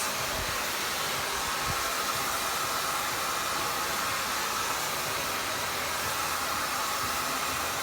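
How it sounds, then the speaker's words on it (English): A hair dryer blows continuously at close range while medium-length hair is blow-dried at the roots, a steady loud whooshing roar that stays level throughout. "I want you to constantly keep the blow dryer on the head, no matter what you're doing."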